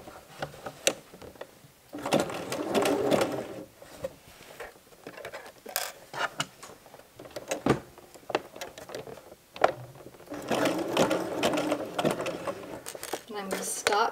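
A sewing machine stitches fabric for a casual skirt with pockets, running in bursts of rapid mechanical patter with pauses and handling clatter between runs, close and moderately loud.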